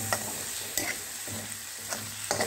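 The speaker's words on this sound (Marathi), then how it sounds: "छान हे मिक्सचर आपण परतून घ्यायचं आहे" A bottle gourd halwa mixture with sugar and cardamom powder is stirred in ghee in a pan, with a soft continuous sizzle broken by rhythmic spoon scrapes every half second or so.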